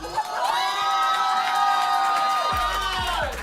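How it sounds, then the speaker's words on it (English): Crowd cheering and whooping at a marriage proposal, loud sustained shouts and excited voices from many people, with a few low thumps near the end. "As the crowd cheered on Jackson's Real Housewives references"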